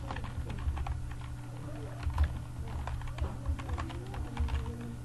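Keys tapped on a computer keyboard while entering a short slogan into a Shopify store theme editor, quick irregular clicks close and fairly quiet over a steady low hum.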